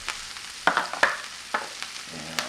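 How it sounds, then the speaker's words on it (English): Kale sautéing in olive oil in a pan, a soft continuous sizzle broken by several sharp stirring scrapes and clacks of a utensil, close and with no talking. "I'm going to add a little bit of more olive oil into this kale. And then add the rest of the kale."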